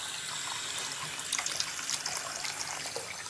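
A household tap runs steadily at a sink while a child brushes their teeth, a continuous close hiss of flowing water with faint splashing, no talking.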